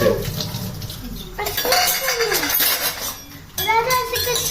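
A spoon clinks and scrapes inside a pot while watermelon juice with small watermelon chunks is stirred, a loud, close, steady clatter with a voice speaking over it.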